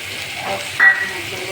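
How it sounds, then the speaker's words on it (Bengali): Ginger paste, cumin paste, turmeric and chili powder frying in a pan, a steady close sizzle with a brief louder hiss surge midway, no talking. "এখন বিভিন্ন ধরনের মশলা কষানো হবে"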